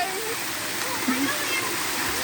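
Water pours and splashes continuously at the Erawan cave waterfall in Na Wang district, a steady close rush, with voices of children and adults audible over it.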